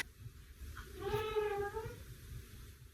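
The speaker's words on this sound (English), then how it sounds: "And there's the cat at the door." A single drawn-out cat meow at a door, moderately faint, rising and falling over about a second against a low background rumble.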